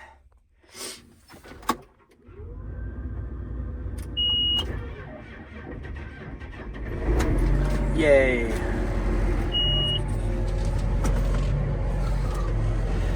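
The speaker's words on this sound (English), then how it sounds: "we got one tractor to start at 4:20 in the afternoon" A John Deere 8345 tractor, cold-starting in winter, cranks and catches, then settles into a loud, steady diesel idle close by, with a brief cheer and beeping cab alerts over the running engine.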